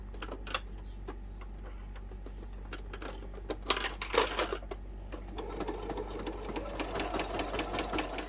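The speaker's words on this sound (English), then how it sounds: "all you're doing with your basting stitch is just catching all of your raw edges" A sewing machine runs a basting stitch along the raw edges of a fabric wallet with card slots, a quiet, close, rapid mechanical ticking in several short runs, with a few faint handling clicks between bursts.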